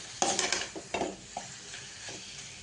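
Chicken goes into frying masala for a pepper chicken fry, giving a few short, quiet bursts of sizzle and scraping against the pan over a faint hiss, with no talking.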